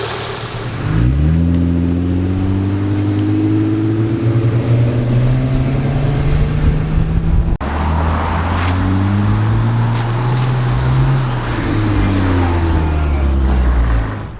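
An Acura TL sedan engine revving up through the gears on a road test after a radiator replacement, rising in pitch with each gear, dropping at each shift, then climbing again, loud and close with no talk.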